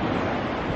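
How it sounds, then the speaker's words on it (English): Ocean waves wash onto a beach at sunset, forming a loud, continuous broadband rush with no distinct breaks, close to the microphone. "sound of waves in the background and the beautiful sunset."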